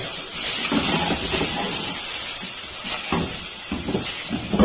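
Onion frying in a pan for a Moroccan dish, giving a steady bright hiss and crackle throughout, loud and close with faint stirring bumps underneath.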